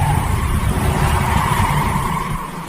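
A car engine roars steadily and loudly with dense low rumble, sounding like a vehicle driving off at speed, tapering slightly at the end.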